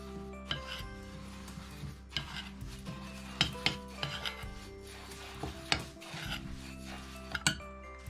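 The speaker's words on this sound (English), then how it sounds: "mix with a spoon" A spoon scrapes and rubs through dry oats, flour and baking soda in a bowl, with steady gritty strokes and occasional clinks against the side, close up and with no talking.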